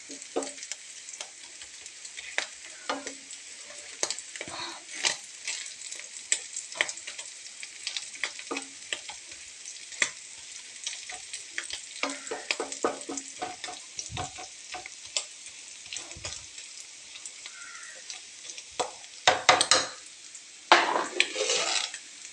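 Food fries with a constant sizzle while a utensil scrapes and clinks against the pan, stirring in irregular bursts throughout.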